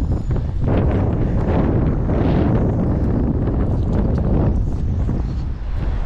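A steady, heavy rush of wind batters the microphone outdoors on a bank while fishing for bass, a loud, continuous roar with no talk.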